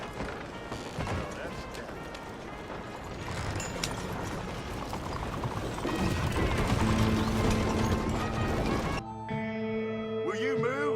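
Stagecoach horses in Red Dead Redemption 2 trot with rhythmic clip-clop hoofbeats and rattling wheels and harness, steady and fairly close, before the scene cuts to a different, cleaner sound near the end.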